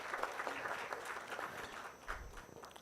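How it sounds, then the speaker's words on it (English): An audience at a lecture gives a round of applause, a soft, fairly distant patter of many hands clapping that carries on evenly for a few seconds. "worth clapping for."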